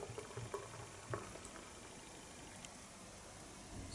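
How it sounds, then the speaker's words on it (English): Peach haze IPA from The Steam Machine Brewing Co. poured hard into a glass, a steady fizzing, splashing liquid hiss with a few soft glugs near the start, moderately quiet and unbroken by talk. "That was a bit of an aggressive pour"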